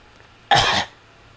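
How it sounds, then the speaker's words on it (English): A single sharp cough, close and fairly loud, lasting under half a second, then quiet. "That was a cough."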